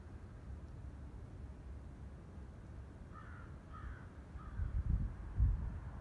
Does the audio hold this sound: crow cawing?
yes